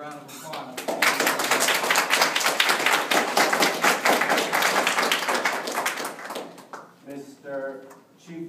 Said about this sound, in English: I want to give David a round of applause.